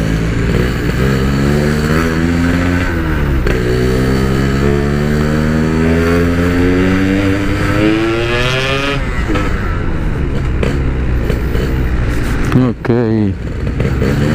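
A stock, unmodified Yamaha RX King two-stroke motorcycle revs loudly up close, its engine pitch climbing and falling in repeated surges, with a brief spoken word near the end.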